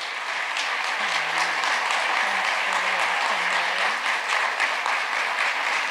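An audience claps warmly for Jean Becker at an Indigenous speakers series event, a steady close round of applause with a faint voice murmuring underneath.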